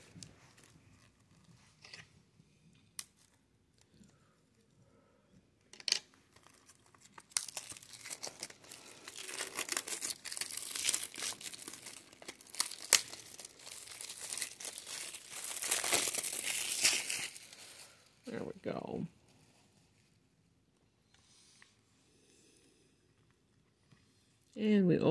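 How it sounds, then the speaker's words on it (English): Plastic shrink wrap being torn and peeled off a Blu-ray case, with close, loud crinkling and tearing in irregular bursts that build to a sustained stretch of rustling before ending in a few scattered crackles. "Now we've got to take that plastic off."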